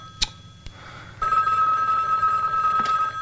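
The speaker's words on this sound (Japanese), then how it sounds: "電話だぜ。" A telephone rings in a room: a sharp click, then a steady electronic bell tone that sets in and continues loud and unbroken to the end, with no one speaking.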